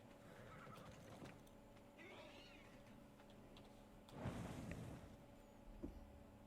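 A horse whinnies faintly in the survival game Ark on its volcano map, a short wavering call, then a louder rushing burst of movement and a soft thump against a steady low game hum.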